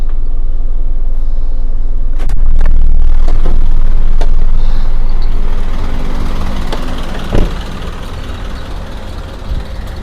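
An Isuzu NQR 175 medium truck with a cargo bed runs its diesel engine close by, a loud steady rumble broken by a few sharp clicks and knocks, then easing to a quieter idle.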